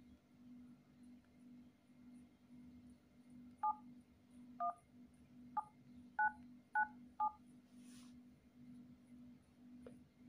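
Touch-tone keypad beeps from a phone entering a six-digit OTP on a Paytm customer care call: six short, clear tones at uneven intervals over a low steady hum.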